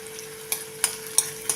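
Onion frying in a pan for a Marathi vegetable dish, a steady soft sizzle with a few light stirring scrapes spaced through the short stretch, close and without any voices.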